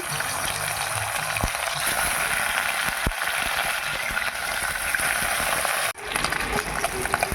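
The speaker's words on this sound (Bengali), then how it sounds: "তেল গরম হয়ে গেছে এবার মাছগুলো ভেজে নেব" Small bhola fish frying in plenty of hot mustard oil, a loud, continuous crackling sizzle with a few sharp pops and a brief dip near the end.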